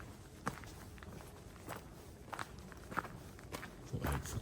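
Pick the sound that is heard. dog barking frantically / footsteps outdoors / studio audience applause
footsteps outdoors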